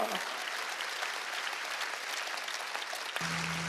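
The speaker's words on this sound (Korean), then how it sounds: "박수 치라 이게야" A church congregation claps together at an evangelistic revival meeting in an indoor gymnasium, a dense steady wash of hands that fills the hall and stops abruptly near the end, leaving a low hum.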